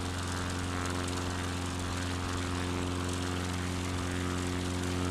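A propeller airplane engine in Microsoft Flight Simulator 2020 drones steadily while straining to climb through thin air at high altitude, a constant loud buzzing hum with no talking.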